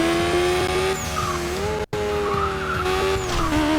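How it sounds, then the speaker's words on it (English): Steady racing-car engine whine from a Matchbox driving video game, a loud sustained drone rising and falling in pitch with tire squeals, briefly cutting out for a moment midway. "All I can hear is engine noise right now"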